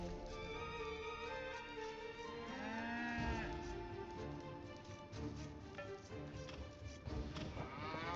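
Cows in Age of Empires 2 low a drawn-out moo that bends up and falls, set against steady game ambience and soft clicking, fairly faint and with no speech.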